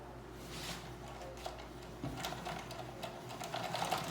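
A yarn winder turns a first ply of hand-spun yarn into a cake, giving a steady low mechanical whir with faint clicks and rattles throughout, close by and with no talking.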